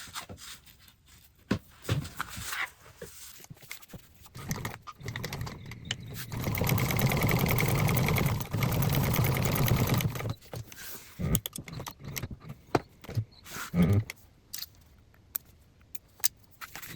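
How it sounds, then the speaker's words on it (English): Close rattling clicks and handling noises lead into a steady four-second run of a sewing machine topstitching a bag seam, then a second shorter run, followed by more scattered clicks and fabric handling. "take this to the machine, and we're going to top stitch on each side"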